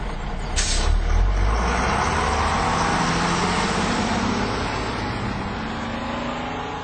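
A bus on a road below Jirisan mountain gives a short air-brake hiss, then its engine rumbles steadily and slowly fades as it pulls away, with no voices.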